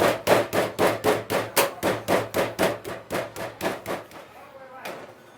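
A venison steak is pounded flat to about half an inch thick, with around seventeen evenly spaced, sharp thumps close up, slowing and fading toward the end.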